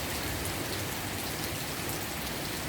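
Heavy rain pours steadily on a street where water is pooling up to car tyres, a dense, even hiss with no breaks and no voices.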